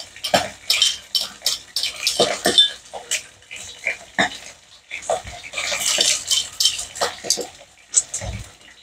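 Sliced ginger, spring onion and garlic mixed in a bowl with cutlery, close and fairly loud, brisk repeated scraping and clinking strokes in an uneven rhythm.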